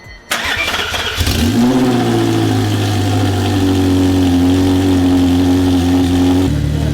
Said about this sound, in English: who just put the exhaust on this car and he's about to fire it up